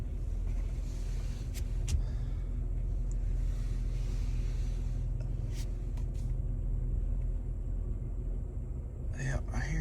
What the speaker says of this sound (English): our tire is in fact rubbing